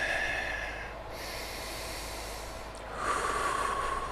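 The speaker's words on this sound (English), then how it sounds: "Big breath in, big breath out. So we're just gonna keep breathing here" Slow, deep breathing during a hip mobility exercise: a long, soft, breathy inhale and exhale that pause in the middle, then another breath swells in, close and fairly quiet.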